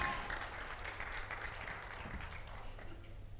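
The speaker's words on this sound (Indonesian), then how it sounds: "Tepuk tangan teman-teman." An audience claps for a guest at a live talk-show style event, a soft, steady patter of many hands that fades slightly toward the end, heard fairly faint and distant.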